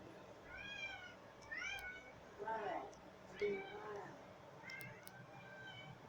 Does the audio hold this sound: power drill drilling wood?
no